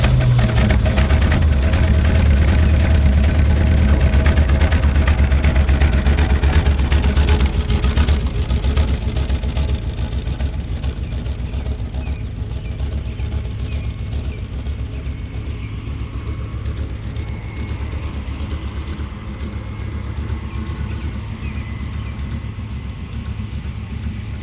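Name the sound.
abandoned Dodge driving slowly around a field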